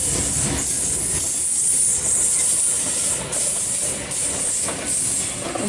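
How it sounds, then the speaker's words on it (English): A Sydney Trains Cronulla service, T92 leading, passes platform 4 at Tempe station with a steady, loud rolling rumble and hiss of wheels and cars going by, without a break for the full run. "Cronulla service passing platform 4."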